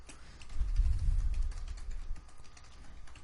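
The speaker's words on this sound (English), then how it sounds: "there's a lot of typing here" Computer keyboard typing during C++ programming, a quick run of soft clicks and taps that is strongest early and then thins out, moderately faint and with no voices.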